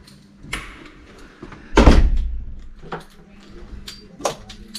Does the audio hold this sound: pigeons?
no